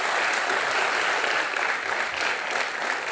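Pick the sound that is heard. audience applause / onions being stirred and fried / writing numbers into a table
audience applause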